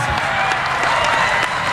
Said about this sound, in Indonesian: kita beri tepuk tangan 1 kali lagi untuk pasangan nomor urut 5 dan nomor urut 2.